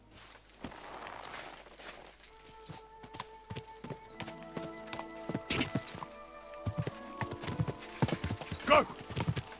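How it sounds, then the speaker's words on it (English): Horse hooves clip-clop steadily on the ground in the medieval video game Kingdom Come: Deliverance 2, mixed with other game sounds, with a horse whinny and voices in the background. "Hey, Tomman, get off that horse"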